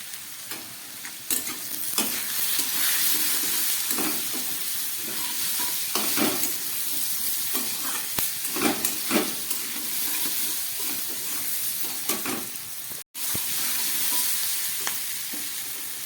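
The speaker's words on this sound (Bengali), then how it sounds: "নুন হলুদ দিয়ে খানিকটা ভেজে নিলাম।" Pumpkin pieces fry in a pan with salt, turmeric and green chillies, a constant sizzle broken by repeated scraping stirs and clacks of the spatula against the pan, with a brief cut near the end.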